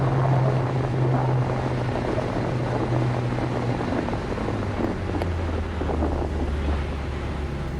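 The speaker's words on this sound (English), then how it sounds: "Oh, there's a little bit of a gust there." Inside an A36 Bonanza in flight with the door open, a steady roar of wind and engine drone fills the cabin, swelling briefly in a gust.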